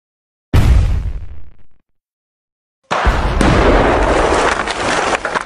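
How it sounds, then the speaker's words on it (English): Magical fireworks burst in an animated Thomas the Tank Engine film: a loud half-second explosive whoosh that fades out, then after a gap a second sustained crackling, roaring burst that continues to the end. "It sounds like a magical fireworks or something."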